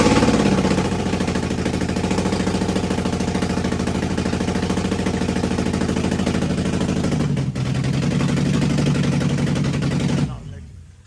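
An Infiniti G35 engine idles steadily and loudly while being checked for oil leaks, a continuous rumbling drone that runs for about ten seconds before cutting off abruptly.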